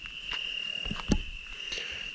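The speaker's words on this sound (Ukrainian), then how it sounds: "Цвіркуни цвірчать." Crickets chirp in a steady, faint, continuous trill at night in a rural village house, with a few soft knocks and rustles nearby and no talking.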